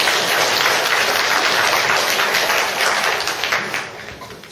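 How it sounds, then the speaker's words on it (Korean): A church congregation claps together in a loud, dense burst of applause that holds steady for a few seconds before tapering off. "박수를 한번 치십시다."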